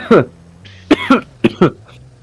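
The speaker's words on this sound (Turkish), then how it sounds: "sen öksürdün de ben de öksürüyorum" Several harsh coughs in quick succession, close by, with a short gap between bursts and a faint hum underneath.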